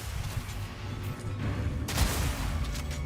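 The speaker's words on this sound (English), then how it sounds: "I love giant Witchhunter explosions." Giant Witchhunter explosions in Path of Exile 2 boom through a sustained roar of gunfire-like blasts, with a heavier burst near the two-second mark, loud and continuous throughout.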